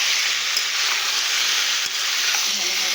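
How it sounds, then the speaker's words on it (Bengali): Fish and ridge gourd curry sautéing in a pan, giving off a steady, loud frying sizzle with faint stirring clinks throughout, close and continuous with no talk. "ভালোভাবে ধীরে ধীরে কষিয়ে নিতে হবে"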